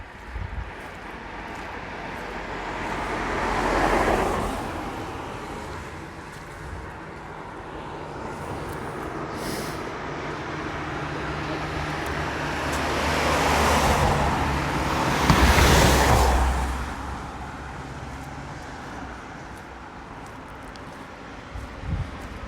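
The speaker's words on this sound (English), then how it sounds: "That car slowed down then." A car passes along a village road in Rosemarkie, a swelling whoosh that rises and fades, with a second louder pass later over a steady background hum of distant traffic.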